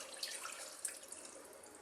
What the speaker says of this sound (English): Now we're going to add some coconut milk.